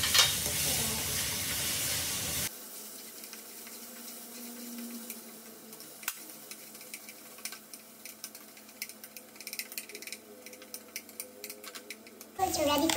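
Two eggs frying in a pan, seasoned with salt and black pepper, giving a steady faint sizzle with light crackles and occasional stirring noises.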